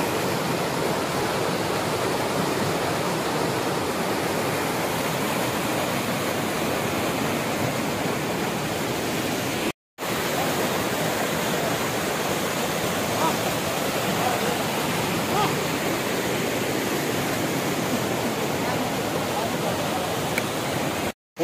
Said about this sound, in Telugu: చాలా ఫాస్ట్గా వస్తున్నాయి నీళ్లు